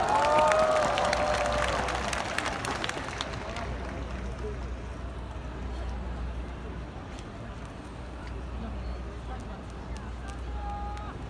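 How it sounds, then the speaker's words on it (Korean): Audience applause in a Korean concert or event hall, loud clapping at the outset that tapers into a sustained softer patter of a large crowd. "박수 부탁드리겠습니다"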